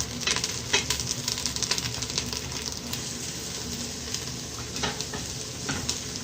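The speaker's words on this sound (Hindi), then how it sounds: "अब ये लहसुन अदरक जो है पेस्ट मैंने डाला, फ्राई कर लिया, अच्छी तरह फ्राई हो गया।" Garlic ginger paste frying with onions in a pan, a steady close sizzle with bursts of spattering and stirring scrapes running continuously throughout, no talk over it.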